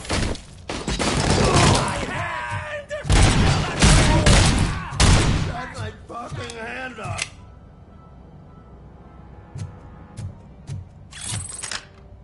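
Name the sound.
AK-47 gunfire in RoboCop Rogue City video game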